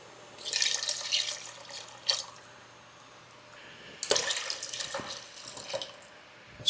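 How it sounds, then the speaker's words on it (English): Water running from a tap into a pot of lentils and tomatoes for a one-pot Italian lentil pasta soup, two bursts of splashing pour separated by a quiet pause, close and clear. "Now we'll add in some water."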